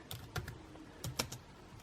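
Close, fairly quiet clicks of a computer keyboard, a few quick uneven keystrokes in two short bursts with brief pauses between them.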